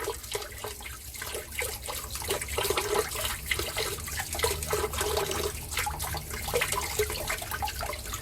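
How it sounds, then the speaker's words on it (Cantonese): Small abalone scrubbed with a brush under a gently running kitchen tap, a steady stream of water with rhythmic scrubbing strokes throughout, close and moderately loud, no voices. "你可以開細少少個水喉嘅，一路刷一路沖"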